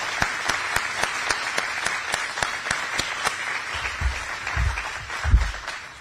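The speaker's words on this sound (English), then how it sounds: "I think we need to give a big round of applause for the healthcare workers" A crowd gives a round of applause for healthcare workers at an Iowa bill signing, with steady clapping from many hands in a room and a few low thumps and bumps toward the end.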